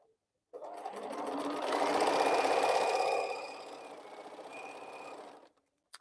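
A sewing machine stitches a T-shirt quilt in one continuous run of about five seconds, a fast even whir that swells then settles before stopping.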